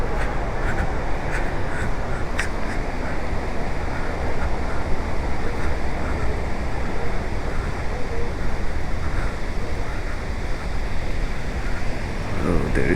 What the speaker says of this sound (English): There is a lot of water here